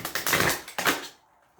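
Sticky tarot card deck being shuffled by hand, two rough riffling bursts of stiff cards close up, then fading to quiet.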